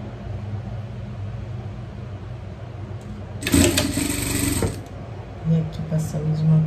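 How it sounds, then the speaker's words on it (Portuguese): A sewing machine stitches a folded seam on a small pet bikini, a loud mechanical whir lasting about a second, framed by quiet talking before and after. "vamos dobrar aqui e vamos passar a costura, ó."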